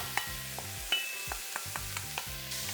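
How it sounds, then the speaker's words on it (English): Onions with green chilies and garlic frying in a pan for Sri Lankan chicken curry, a soft steady sizzle broken by repeated scraping stirs and light utensil taps, close and alone with no talking. "Now we're going to let those onions cook for a little bit because we want some color in those onions."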